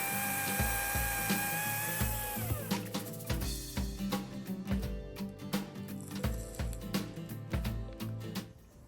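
Parkside Performance cordless 40V chainsaw cutting through wood, a whining motor that rises then drops into a loud buzzing cut, broken by rapid bursts and pauses as the chain bites, close and without speech.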